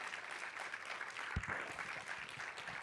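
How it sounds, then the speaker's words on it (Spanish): Church congregation clapping during a Sunday morning service, a steady wash of applause filling the room with a few sharper claps and thumps near the middle. "alguien que le dé un aplauso fuerte en esta mañana al Señor"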